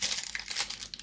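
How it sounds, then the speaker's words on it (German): Plastic wrapper of a cinnamon roll protein bar crinkling and tearing as it is opened, a close, continuous rustle with sharp crackles throughout. "Moment, irgendwie will ich die Tüte nicht ganz zerreißen."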